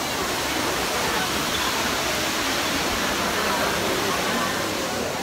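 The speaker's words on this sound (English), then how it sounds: "So we are now at the Fontana di Trevi in Rome again." Water from the Trevi Fountain in Rome rushes in a steady, loud, broadband roar, with a crowd murmuring faintly beneath it throughout.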